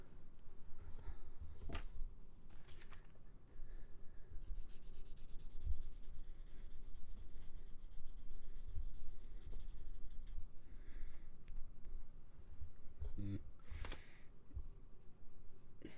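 Gundam model kit plastic pieces are polished by hand with steady, continuous scratchy rubbing up close, with brief louder scrapes and taps.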